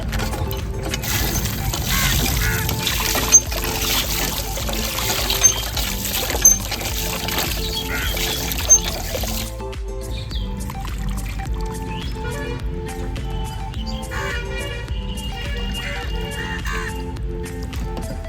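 Water pours steadily from a tap or vessel while chicken meat is washed for a village-style chicken curry, a continuous close splashing flow with occasional clinks, quieter and thinner in the second half.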